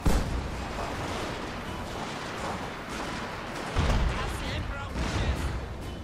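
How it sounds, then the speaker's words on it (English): Cannons fire in a large battle in the video game Shogun 2: Fall of the Samurai, with dense rumbling booms and bursts over constant battlefield noise, while someone talks over the din. "You cannons. You can fire at them now."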